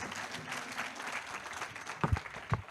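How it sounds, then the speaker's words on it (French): Conference attendees applaud the speakers after a round-table on battery repair, a soft, diffuse patter of clapping that thins out and is broken by a few louder thumps near the end. "on peut applaudir nos intervenants"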